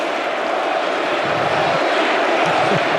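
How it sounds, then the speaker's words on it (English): A stadium crowd at an NFL game chants for Cody Ford as a steady, dense roar of many voices, broad and continuous across a few seconds with some louder swells late on. "The crowd is chanting for Cody Ford to get the football"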